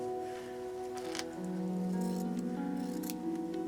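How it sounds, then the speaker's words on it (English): Scissors snip through fabric while trimming it around a pre-cut batting piece for a bowl cozy, a close, quiet run of crisp cuts and rustles with a steady tonal hum underneath. "So I'm cutting around the batting."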